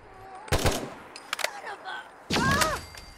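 Gunfire from a semi-automatic weapon in the video game Fallout 4, a few quick bursts of shots mixed with game effects and a voice talking.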